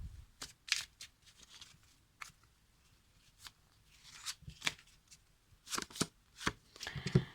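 Tarot cards are shuffled and picked in repeated bursts of crisp riffling and slapping, close and fairly loud, with short pauses between handfuls and no talking over them.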